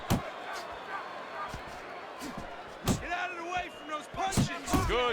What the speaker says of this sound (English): Good job on the two-punch combo by Shotgun